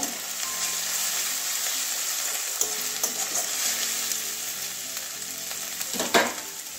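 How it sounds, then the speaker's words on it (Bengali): Ginger garlic paste fries in a pan, a steady close sizzle broken by repeated scraping and clinking as a spoon stirs it, with a louder clatter near the end. "এবারে আদা রসুন পেস্ট দিয়ে দিচ্ছি, এটা কাঁচা গন্ধ যাওয়া পর্যন্ত ভেজে নেব।"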